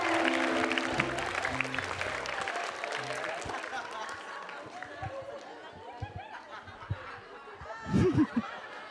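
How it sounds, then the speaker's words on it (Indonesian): Audience at an Indonesian stand-up comedy show applauding and snickering, scattered clapping and chuckles over a comedian's talk, ending in a short burst of louder claps near the end. "Oke, tepuk tangan dulu."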